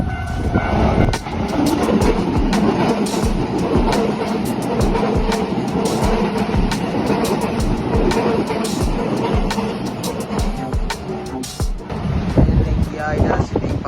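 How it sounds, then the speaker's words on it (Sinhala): A train rushes past a closed Japanese railway crossing, close by, with a continuous heavy rumble and rapid clicking of wheels over rail joints that lasts the whole time. "බලමු ඉතින් දැන් ට්‍රේන් එකකුත් එනවා"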